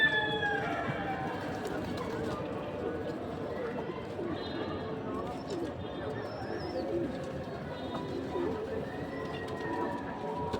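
Pigeons coo softly and repeatedly in a quiet setting, with faint chirps and indistinct voices in the background.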